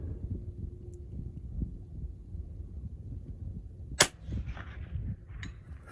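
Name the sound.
Vudoo V-22 rifle firing .22 long rifle at long range target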